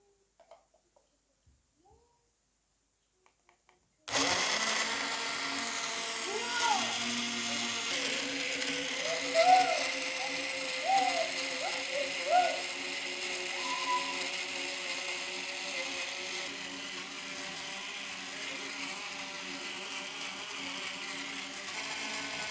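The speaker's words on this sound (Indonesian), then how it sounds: "kita tutup dan kita akan blender" A blender motor starts abruptly after near silence and runs steadily, a loud whirring roar with bumps and chopping as guava, papaya and water churn into a smoothie.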